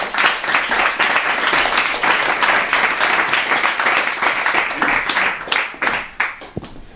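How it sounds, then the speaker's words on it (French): An audience applauds at a talk, with dense, loud clapping from many people that holds steady, then thins out and fades into a few scattered claps at the end. "Ah, vous pouvez l'applaudir."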